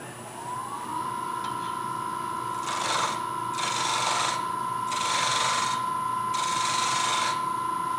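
Wood lathe spinning a wooden scoop blank, a steady motor whine joined by four bursts of rasping tool cuts against the turning wood, close and fairly loud.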